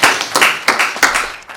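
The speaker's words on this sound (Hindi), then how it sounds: "जोरदार तालियों से स्वागत करिए।" About five sharp, separate hand claps ring out in a quick, slightly uneven rhythm as a poet is welcomed at a Hindi poetry gathering. They are loud and close, with no speech.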